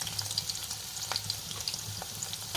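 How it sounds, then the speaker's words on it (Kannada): Long-sliced onions sizzle in hot oil, making a steady crackling hiss with light stirring scrapes and no voices. "ಎಣ್ಣೆ ತೆಗೆದು ಇದಕ್ಕೆ ಉದ್ದಗೆ ಹೆಚ್ಚಿರ್ತಕ್ಕಂಥ ಉಳ್ಳಾಗಡ್ಡಿ ಹಾಕೊಳ್ಳೋಣ್ರಿ"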